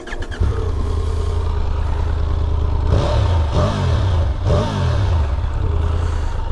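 Triumph Tiger 1200 GT Pro motorcycle engine revved with the clutch in: a loud, close idle rumble followed by three quick throttle blips that rise and fall, with no voices.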